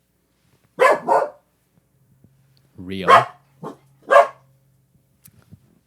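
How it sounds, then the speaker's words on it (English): A pet dog barks indoors at home as someone arrives, giving three short, sharp barks spread across several seconds, fairly close, with brief speech between them. "I think that's why he's barking."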